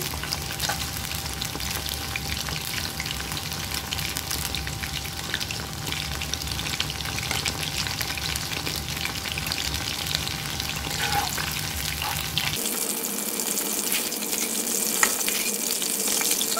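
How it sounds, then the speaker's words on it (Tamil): Fish pieces deep-frying in hot oil for chilli fish Manchurian, a loud, dense and continuous crackling sizzle close by, shifting to a thinner, higher hiss near the end. "நம்ம எல்லா ஃபிஷ்ஷையும் ஃப்ரை பண்ணி எடுத்துப்போம்"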